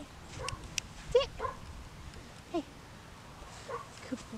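A Standard Whoodle puppy gives a few short yips and whimpers, scattered and fairly close, amid quiet indoor room noise and soft human voices.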